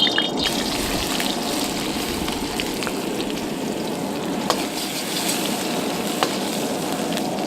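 Garlic and ginger sizzle in hot avocado oil in a wok, a loud, steady frying hiss with occasional sharp spits and crackles, heard up close with no talking.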